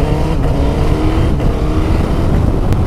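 A Suzuki GSX-S1000 GT motorcycle engine runs loud and close with a steady, throbbing rumble and slight swells of revving throughout, with no voices.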